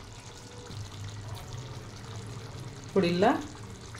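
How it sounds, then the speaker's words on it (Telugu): Water splashes briefly into a pan of simmering chicken curry, a short loud gush late in the clip following a few spoken words over a low kitchen hum. "1/2 గ్లాసు వాటర్ పోసుకోవాలి"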